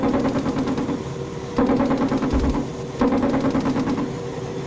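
Rapid bursts of aircraft gunfire in a combat flight video game, three loud rattling volleys in a steady rhythm against a constant engine drone, with no talking.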